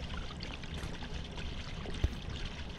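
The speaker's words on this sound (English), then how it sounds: "I mean, the water seems to be leaking out of there." In the game Hello Neighbor, leaking water makes a continuous soft pouring, trickling rush, steady and fairly quiet, with one brief low thump partway through.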